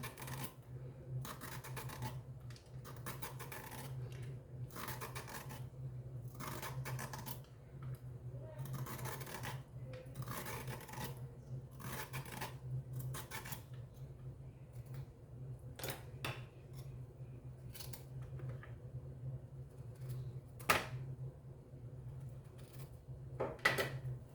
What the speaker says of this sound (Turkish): Şu şekilde kabaklarımı soyuyorum